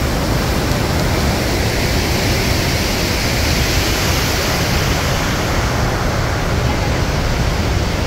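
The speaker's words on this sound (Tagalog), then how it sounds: "ang lakas, dami niyang falls mga ka-angel" A large waterfall in Spokane, Washington roars steadily and loudly, a dense unbroken wash of falling water close by with no pauses.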